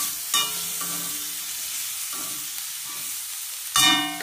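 Spices and ingredients for a bitter gourd and onion sabzi are dry-roasted in a pan over low gas, giving a soft steady hiss broken by a few sharp scraping clinks of a spatula, one near the start and one near the end.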